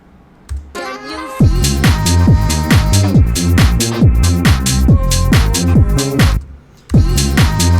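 A speed garage track built in Ableton Live with Serum plays at the drop, with a vocal. Heavy, punchy, rhythmic bass hits and synth stabs repeat loudly, with a brief break near the end before the beat slams back in.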